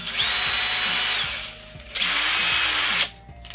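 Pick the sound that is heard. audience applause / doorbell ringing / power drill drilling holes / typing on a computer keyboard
power drill drilling holes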